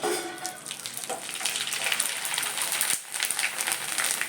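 Homemade vadiyalu, sun-dried fryums, drop into hot oil and sizzle in a bright, crackling hiss that surges and bubbles continuously at close range.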